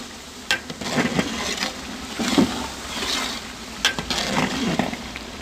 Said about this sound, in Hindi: अच्छी तरह मिक्स कर लेंगे इसे।